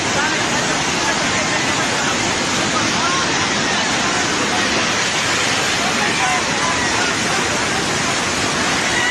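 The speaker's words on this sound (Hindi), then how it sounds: "नुवाकोट में त्रिशूली नदी का उफान देखिए जरा।" Flood-swollen Trishuli River surges at Nuwakot, Nepal, with a loud, unbroken roar of rushing water and nothing breaking through it.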